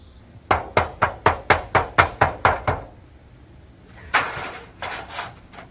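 Metal roof flashing for a shed skylight is bent to a 90-degree angle: a quick, even run of about ten sharp, close taps, then a pause and a few broader crinkling metal bursts, with no talk.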